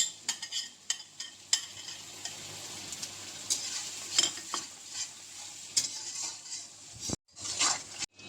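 Soaked spice paste for a Bengali prawn malai curry goes into a hot pan and is stirred: a steady sizzle with repeated scraping stir strokes, close and moderately loud, briefly dropping out near the end.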